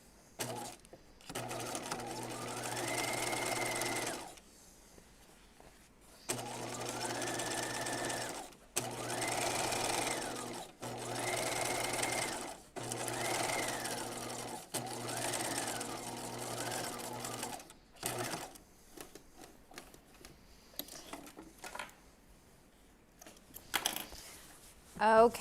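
A sewing machine stitches a second row a quarter inch from the first along the yoke seam of Marilyn jeans, running in several steady bursts with short pauses, then stopping while faint handling noises follow.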